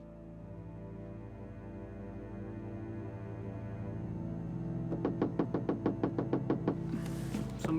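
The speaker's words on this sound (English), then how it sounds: "Somebody's at the door." Low electrical hum drones under a game scene in Gabriel Knight 2: The Beast Within (1995), then a rapid run of about ten sharp knocks on a door rings out near the end, close and distinct.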